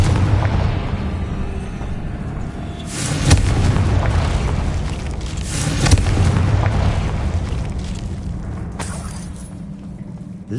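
Confringo spell explosions in Hogwarts Legacy, deep booming blasts over a rumbling background, with a couple of sharper bursts standing out at intervals.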